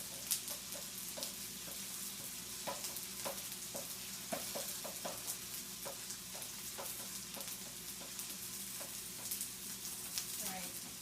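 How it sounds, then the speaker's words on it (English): A large egg fries on a hot griddle for okonomiyaki, giving a steady bright sizzle throughout, broken by soft clicks and scrapes of a spatula spreading it. "I'm going to crack a large egg right onto the griddle."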